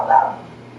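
A single short dog bark, close and fairly loud, fading quickly into a low steady hum.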